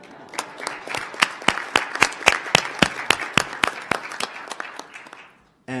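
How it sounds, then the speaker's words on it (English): A small audience claps for a newlywed wife at a G4 Alliance event, sparse and distinct hand claps at an even rhythm that thin out and stop after about five seconds, with no voices over them. "So I'm going to ask his wife to stand up so we can give her a round of applause."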